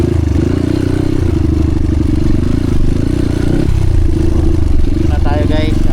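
A motorcycle crawls along a hard dirt trail open only to motorbikes, its mid-pitched engine droning loud and close with shifting revs and rattling clatter, while a voice talks briefly near the end.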